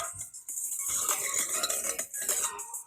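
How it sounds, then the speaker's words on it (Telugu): Eggs beaten in a bowl for a chocolate bourbon cake, a fast rapid clatter of a utensil whisking against the bowl's sides, close and continuous, with no talking. "ముందుగా ఎగ్స్ని బీట్ చేసుకుంటాం"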